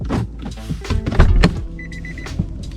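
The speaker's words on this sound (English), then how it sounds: "go over here and then lock your door." Door locks on a 2004 Infiniti G35x actuate from a key fob: several quick mechanical thunks close by, followed by a short series of faint electronic chirps.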